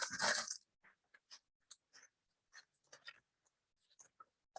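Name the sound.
crumpling a paper grocery bag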